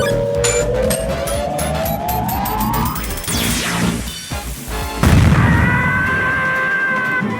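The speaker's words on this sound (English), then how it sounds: "She's a stationary turret that will automatically fire upon any person you deem to be an issue" Automatic turret firing in a video game, a loud burst of synthetic gunfire and crashing booms over continuous game noise, with rising whooshes and a heavy impact partway through.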